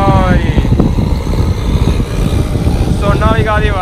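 A modified tractor engine labours while pulling a harrow in a village field contest, a loud, continuous throbbing roar with rising and falling revs, close by and dominating the scene.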